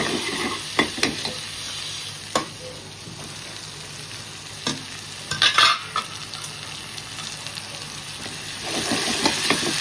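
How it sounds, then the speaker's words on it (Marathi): Finely chopped tomato fries in a pan, a steady sizzle punctuated by sharp scraping strokes of a spoon being stirred through it, with the frying swelling louder near the end. "आता आपण याच्यामध्ये बारीक चिरलेला टोमॅटो टाकूया."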